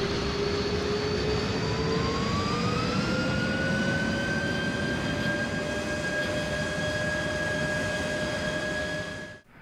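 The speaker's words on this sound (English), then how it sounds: "And finally, thrust reversers." A Boeing 747 in a flight simulator roars steadily with its thrust reversers deployed, a loud sustained jet rush with rising whining engine tones that holds for nearly ten seconds and then cuts off, without any talking.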